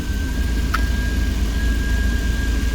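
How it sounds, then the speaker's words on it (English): A car engine idles steadily while warming up, with a faulty idle air control suspected, giving a constant close low rumble with a faint high whine and no speech. "the idling starts coming down to more of a normal rate"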